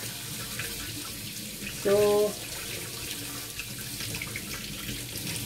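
Water runs steadily from a tap for rinsing, a continuous rushing hiss throughout, with a brief tonal whine from the pipes partway through and a voice speaking softly.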